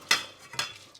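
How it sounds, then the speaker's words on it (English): Chicken pulao stirred in a pot after cold water is added, two quick scraping strokes of a utensil against the pot with a wet slosh, close and clear, no voices. "Give it a good stir."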